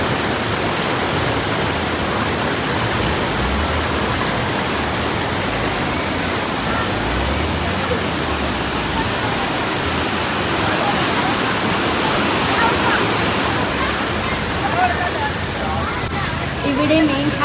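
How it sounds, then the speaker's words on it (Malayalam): A waterfall at a crowded spot in the rain gives off a dense, steady roar of rushing water, with faint voices of people underneath. "ഇവിടെ മെയിൻ ഹൈലൈറ്റ് ആയി എനിക്ക് തോന്നുന്നത് ഈ ഒരു വെള്ളം ഒഴുകുന്നതാണ്"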